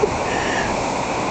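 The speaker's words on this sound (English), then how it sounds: "But the ocean is still here too, and it's awesome to watch." Atlantic Ocean surf rolls onto a cold February beach at Atlantic City, New Jersey, as a steady, broad wash of breaking waves with a constant loud hiss and no clear separate crashes.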